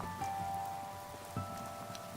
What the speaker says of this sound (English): And it's raining. I wonder if this contaminated rain.